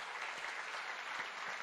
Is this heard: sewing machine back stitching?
no